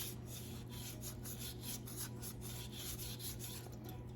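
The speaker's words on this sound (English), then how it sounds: "So now I will have to use a sandpaper. And this is a 220 grit sandpaper." Sandpaper of 220 grit rubbed over painted wood to distress it, a steady close rasping scrape with even repeated strokes over a low background hum.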